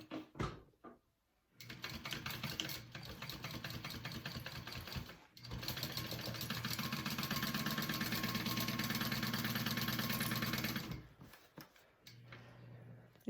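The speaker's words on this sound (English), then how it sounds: "sew that all together at a 3/8 inch seam allowance." A sewing machine stitches the side and bottom seams of a handbag at a 3/8 inch seam allowance. It makes a close, steady mechanical whir in several runs of a few seconds each, separated by short pauses, and nobody talks.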